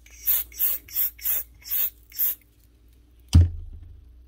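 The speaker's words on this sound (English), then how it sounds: "A little bit of silicone spray in there just to keep things moving." Silicone spray lubricant is blown into a power tool's mechanism in six quick, evenly spaced hissing bursts, then a single sharp knock as a part is set down, in a quiet room.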